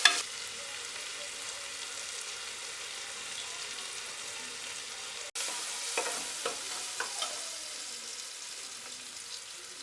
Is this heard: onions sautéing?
yes